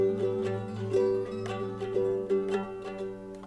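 Handmade low G ukulele strummed and picked, a soft, fairly quiet run of bright plucked notes and chords in a steady rhythm with no talking.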